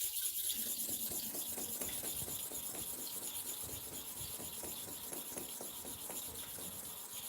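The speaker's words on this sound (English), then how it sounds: "So the tricks are used to sharpen the clipper blade correctly, successively." A clipper blade is drawn back and forth across a sharpening stone in a quick, even series of short rasping strokes, close by and fairly quiet against a faint steady hiss, with no talk.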